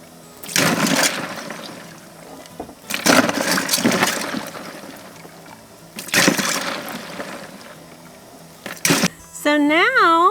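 Blanched corn cobs plunged into a bowl of ice water, several splashing and sloshing bursts separated by quieter gaps, close and fairly loud, followed by a short electronic warbling tone.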